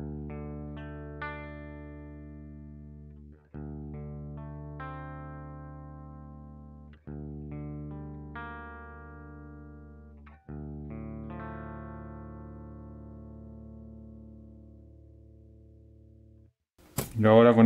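Electric guitar played through a DSM Humboldt Simplifier on its Fender amp setting, gain at half: four sustained, ringing chords with light distortion, each struck cleanly and left to decay, ending in a short, loud burst of noise.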